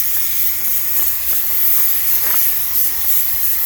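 A spray gun sprays primer onto a Toyota JZX100 Chaser, a steady, broad hiss filling the whole stretch without a break, with faint clicks and knocks underneath.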